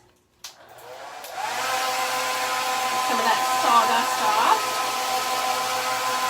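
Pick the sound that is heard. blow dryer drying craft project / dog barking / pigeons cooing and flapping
blow dryer drying craft project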